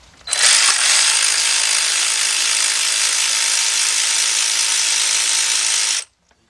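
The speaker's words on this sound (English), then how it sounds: "So I'm going to use a 10mm shallow, 3/8 drive, my cordless impact." A cordless impact wrench spins a 10mm shallow socket on a 3/8 drive against a bolt on a Volkswagen Beetle engine, running loud and steady for about five and a half seconds before stopping abruptly.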